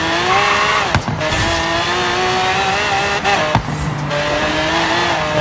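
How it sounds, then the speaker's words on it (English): A race car in a video game screams along at about 160 mph, its engine note steady and loud with brief dips and shifts as it corners, no talking over it. "See, this thing is turning very good for a car that's going 160 miles an hour."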